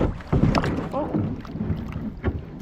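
Kayak hull scraping and bumping through shallow rapids, close rough knocks and grinding against rushing water and wind buffeting the microphone.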